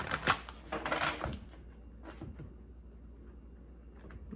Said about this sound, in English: One more deck to shuffle.